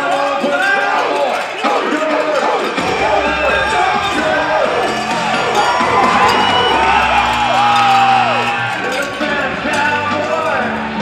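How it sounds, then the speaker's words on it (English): Cowboy friends behind the chutes at a dancehall bull riding event shout and whoop to cheer on a bull rider, a loud continuous crowd roar with excited yells rising and falling. "They're going to cheer him on."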